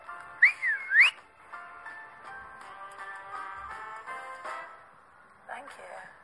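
A sharp two-note wolf whistle, rising then gliding down, sounds loud and close at the start, then gives way to a sustained tonal background.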